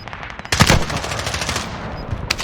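Rapid full-auto gunfire from a 1911 pistol in Call of Duty: Warzone, a close, loud burst of quick repeated shots with a sharp crack near the start, then continuing trailing shots.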